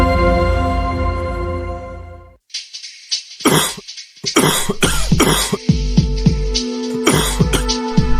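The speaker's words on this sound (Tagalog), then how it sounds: "ang tagal na ng ubo mo ah" Several sharp, close coughs in quick bursts, preceded by a sustained tonal hum that cuts off abruptly.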